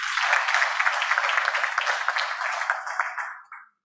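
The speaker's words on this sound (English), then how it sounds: "Let's give him a huge, huge round of applause." Audience applause for a speaker at an advertising report event: dense, steady clapping from a crowd that holds evenly for several seconds, then thins and cuts off quickly at the end.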